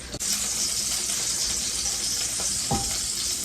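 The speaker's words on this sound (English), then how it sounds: "I'm sure you can hear it sizzling" Constant bright hiss of an herb turkey breast roast sizzling in a hot pan, loud and close, with a faint clink near the start and a brief knock later.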